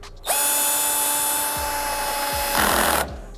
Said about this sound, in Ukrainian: Давайте продовжимо на цьому шуруповерті.